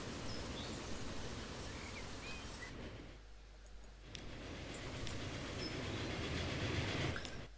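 Game trains running in Transport Fever 2, a steady rumbling roll with faint clicking of wheels, briefly easing midway before building again, with no talk.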